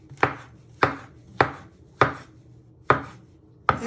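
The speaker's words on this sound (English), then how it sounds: "If you've got good knife skills, you can chop it a bit faster like I'm doing here" Knife chopping mushrooms on a board, six crisp, regularly spaced strikes about every two thirds of a second, close and clear against a quiet background.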